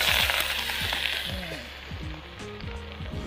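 Chaya leaves and other vegetables stir-fry in hot oil in a pan, a loud, steady sizzle with scattered clinks and scrapes of stirring, close and continuous throughout.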